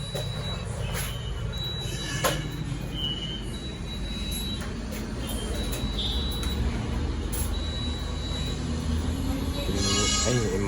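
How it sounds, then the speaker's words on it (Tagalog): An MRT metro train on the Metro Manila railway passes by amid steady, loud rumbling traffic noise, with faint brief beeps and a swell of noise toward the end. "Ay, MRT."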